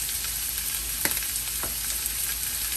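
Garlic powder, onion powder and sautéed ingredients sizzle in a pot for Guyanese metemgee, a steady close hiss of frying with a few soft spoon scrapes as the mix is stirred.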